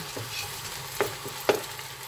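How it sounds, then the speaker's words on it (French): Chicken pieces tossed with pepper, ginger and garlic in a hot pan, a steady sizzle under a couple of sharp stirring knocks of the utensil, close and fairly loud, no voices. "on va bien mélanger pour que toutes les saveurs s'imprègnent également"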